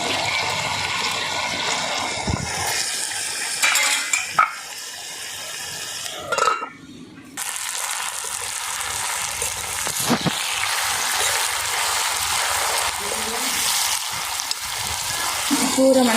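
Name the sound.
greens and tamarind simmering and stirred in a pan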